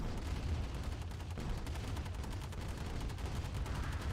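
Dense, continuous gunfire crackles throughout a battle in the Command & Conquer Remastered strategy game, a steady rattle of many overlapping shots with no pause and no voices.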